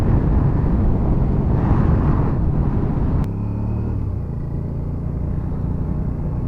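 A 650 motorcycle engine rumbles loud and close while riding, a steady low drone with wind buffeting that drops slightly in pitch partway through as the bike changes speed.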